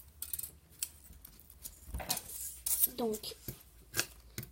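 Scissors cutting thin Nespresso capsule aluminium make repeated crisp snips and soft crinkles, close up, while someone speaks briefly.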